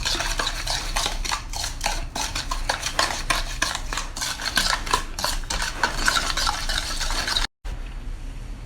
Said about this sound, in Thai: กระเทียมสับครับ นิดหน่อยครับ คนทุกอย่างให้เข้ากันครับ